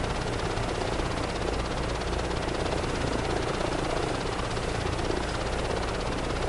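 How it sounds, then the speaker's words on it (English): Steady, loud helicopter engine and rotor drone from Microsoft Flight Simulator 2024, continuous and unbroken throughout with no talk over it. "Helicopter is a little slow, but it's alright."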